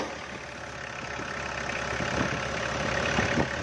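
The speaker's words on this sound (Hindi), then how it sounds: "वाह, ये तो पहली बार में ही स्टार्ट हो गई।" An old Tata Sumo's engine catches and settles into a steady, rough idle, loud and close, with a broad mechanical rumble that swells slightly and holds for several seconds.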